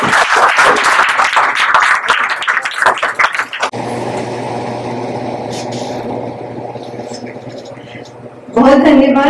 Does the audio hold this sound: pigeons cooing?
no